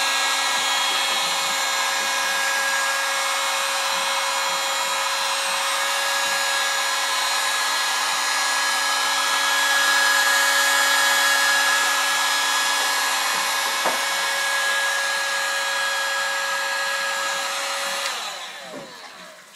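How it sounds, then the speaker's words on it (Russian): A hair dryer runs continuously at close range, a steady whirring blow with a high motor whine, then cuts off at the end. "Шмалит этот фен очень хорошо"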